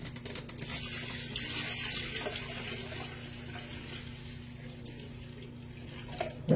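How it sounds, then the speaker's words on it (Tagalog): Water pours steadily from a tap into a vessel for boiling indoors, a continuous soft rushing stream with no one talking, ending with a small clunk. "Maglalagay ako ng tubig."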